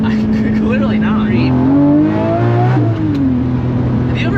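A Lamborghini Murcielago with a gated manual shifter revs and pulls hard while driving over a bumpy road, its engine note loud and close, rising and settling, with people talking in the cabin over it.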